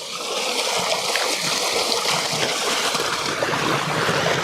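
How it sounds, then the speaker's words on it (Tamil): Water pours steadily into a paddy field on an organic farm, a continuous close rushing and splashing flow with no speech over it. "எப்படி போகுது பாருங்கள் தண்ணி"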